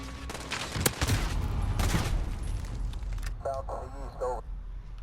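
Flamethrower shotgun fire in the video game Call of Duty Modern Warfare, with a few loud blasts and a whooshing roar, heard under someone talking.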